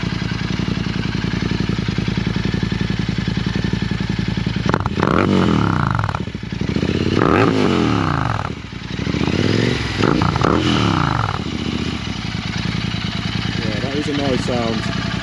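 A Royal Enfield Interceptor 650 motorcycle idles loudly nearby with a steady, throbbing rumble, occasionally blipped slightly higher, while people talk over it.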